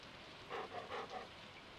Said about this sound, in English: A green rain has descended upon the valley.